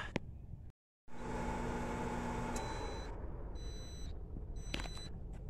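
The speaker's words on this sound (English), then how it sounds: "Microwave. At work. In a van." A microwave oven runs inside a van with a steady humming drone, broken by a short dropout, then ends with several high electronic beeps, close and fairly quiet.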